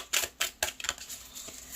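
Tarot cards shuffled by hand give a few crisp, close riffling snaps, then softer papery flutters that fade out quietly.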